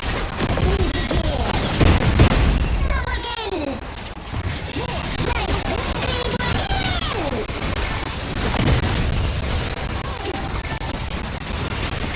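Turret being destroyed in the Honor of Kings mobile game, heard as a run of crashing, smashing impacts with game effects and chirping tones over a dense, continuous backdrop.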